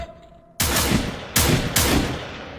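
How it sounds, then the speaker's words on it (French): Gunfire at targets in Garry's Mod plays as three loud, sharp in-game blasts in quick succession, each ringing out with a noisy tail. "À mon top, vous faites feu."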